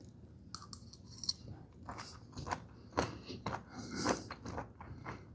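Someone chews roasted green beans from a sheet pan meal of sausage and potatoes, soft crunching bites repeating irregularly up close and quiet, with no talk.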